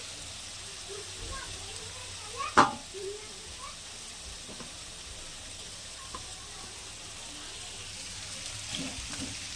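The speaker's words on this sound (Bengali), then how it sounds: "এদিকে মাছের ঝোলে মশলা কষাই নিচ্ছে।" Spices fry in oil for a Bengali fish curry, a faint, steady sizzle running quietly in the background, with one sharp clattering knock partway through.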